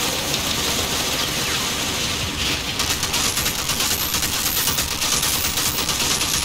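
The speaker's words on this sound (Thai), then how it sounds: "นี่คือยิงปืนนี้ยิงติดไฟนะฮะยิงติดไฟก็ถือว่าทำดาเมจได้เร็วนะฮะ" Rapid incendiary-round gunfire in the shooter game Outriders, a dense continuous crackling burst of shots that runs steadily throughout at close range, with no talk over it.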